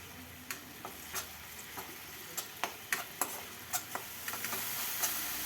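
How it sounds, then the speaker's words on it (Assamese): Onion and spice paste frying in hot oil in a home kitchen while an Assamese fish curry is cooked, a steady sizzle with sharp scattered pops and stirring clicks, close and fairly quiet, with no voices. "মছলাৰ পেষ্টখিনি ইয়াত দি ভালদৰে তেল ওপঙি অহালৈকে মছলাখিনি ভালদৰে ভাজি ল'ম"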